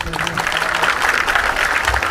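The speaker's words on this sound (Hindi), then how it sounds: "भरपूर तालियां" Applause from the audience at a Pakistani pigeon racing prize distribution ceremony, a steady wash of clapping that continues while someone speaks over it.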